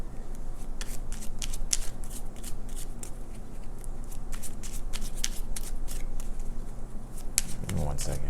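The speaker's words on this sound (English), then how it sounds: "I can't shuffle these damn cards" Tarot cards are shuffled by hand close up in a repeated run of crisp riffling flicks and slaps, with a faint voice briefly audible near the end.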